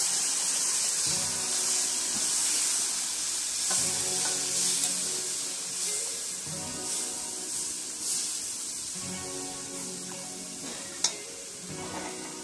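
A buttermilk and gram flour mix fries in a hot pan with a continuous sizzle, rhythmic scraping and stirring, and one sharp knock near the end.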